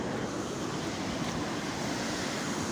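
Water overflowing a dam and running on into a river, a dense, steady roar of rushing water with wind buffeting the microphone, continuous and loud throughout.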